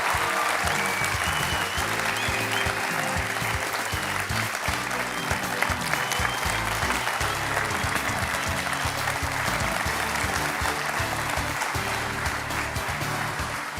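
Steady, dense applause from a studio audience on a televised courtroom-style talk show in India, continuous and loud throughout with music-like low-end underneath and no break.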